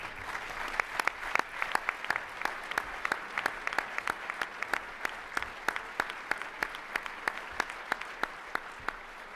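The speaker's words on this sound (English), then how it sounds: "And your applause" Audience applause at the Autosport Awards, a thin spread of distinct claps from a modest crowd, steady and fairly faint throughout.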